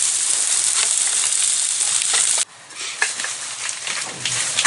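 Ramen noodles cooking on a camp stove, with a steady loud hiss and sizzle that drops abruptly midway and then carries on more unevenly with crackles.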